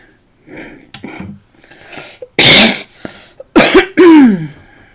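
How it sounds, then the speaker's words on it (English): Two or three harsh, explosive coughs burst out close to the microphone, preceded by soft throaty vocal sounds. "excuse the cough, guys"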